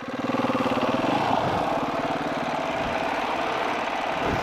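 A Honda dirt bike engine runs nearby on a dirt trail, making a fast, pulsing single-cylinder thrum that holds steady and loud, then rises and falls slightly as the rider works the throttle.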